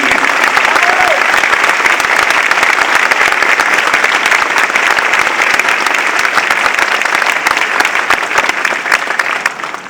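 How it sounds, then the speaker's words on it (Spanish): An audience in a Senate legislative report session claps loudly and steadily for the full length, dense applause with no pauses that thins slightly at the end. "Y por eso, un aplauso para Enrique Peña Nieto."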